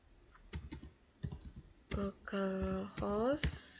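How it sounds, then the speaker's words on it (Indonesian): Computer keyboard typing: a few quick, light key clicks up close early on, then a person speaks over the keystrokes. "Kemudian kita ketikkan localhost"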